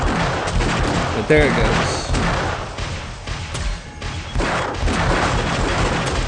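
Turrets firing in 7 Days to Die, a sniper turret among them: a dense, continuous fusillade of loud gunshots and crackling impacts, heavy and sustained throughout, with someone speaking briefly over the din.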